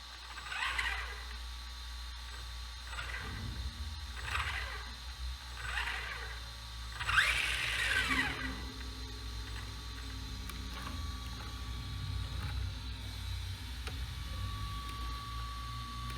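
A freshly fitted electric motor and ESC drive a radio-controlled car at very slow forward throttle, a soft mechanical whir of gearing and pinion with faint repeated clicking bursts over a steady low hum, close up and fairly quiet.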